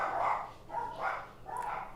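A dog barks three times at a steady pace, fairly faint and somewhat distant indoors, with nothing else heard.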